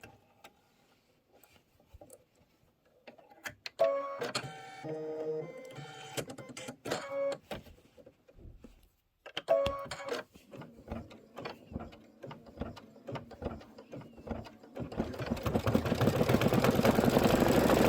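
A computerized embroidery machine stitches out white thread detail on a storybook pocket pillow, its needle hammering in fast mechanical runs with brief pauses between bursts and a rising whirr toward the end.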